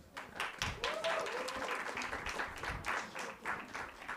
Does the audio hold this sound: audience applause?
yes